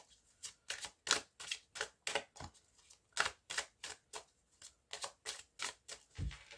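Tarot cards shuffled and laid out in a quiet room: a steady run of crisp, papery riffles and slaps, about a dozen distinct bursts in quick rhythm, close and clear with no talking.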